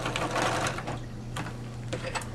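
Sewing machine stitching the collar of a sweatshirt jacket, with an uneven close mechanical whirring and small clicks and bursts as the fabric is guided.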